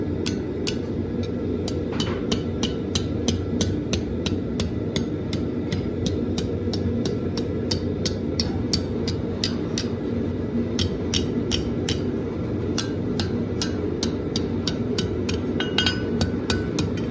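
Blacksmith's hammer striking hot steel to curve a tapered bar end into a scroll, a steady series of sharp metallic blows ringing out over a constant low roar, likely a forge fire.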